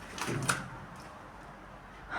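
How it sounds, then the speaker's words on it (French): An old door in an abandoned train station is tried, giving a brief rattle and knock near the start, then faint scuffs in a quiet, echoing space. "il y a une porte, je vais aller voir ce qu'il y a là"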